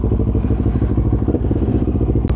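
2020 Kawasaki Ninja 650 motorcycle warming up, its engine idling close and loud with a fast, even, throbbing pulse throughout and a brief click near the end.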